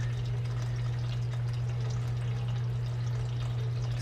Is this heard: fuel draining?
yes